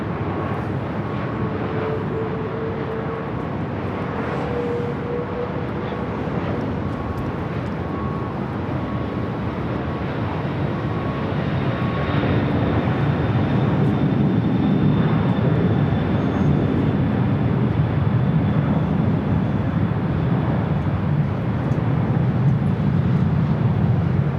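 A DHL ABX Air converted Boeing 767 takes off at LAX, its jet engines a broad loud roar that builds and thickens as the freighter powers down the runway, heard from a distance without voices.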